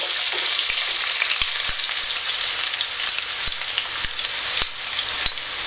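Chopped onions hitting melted sugar in a hot pan for chicken curry, a loud continuous close-up sizzle with sharp clicks of a spatula scraping through it, no talking.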